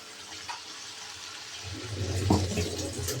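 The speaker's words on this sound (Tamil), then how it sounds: "இப்போ சேர்த்து நமக்கு எவ்வளோ தண்ணி வேணுமோ இதில் கலந்து நம்ம இப்போ ஊற்றிக்கிறோனுங்க." Water is poured into a pot of chicken curry with masala, onion and tomato, a faint splashing trickle that grows louder and fuller partway through, heard alone at low level.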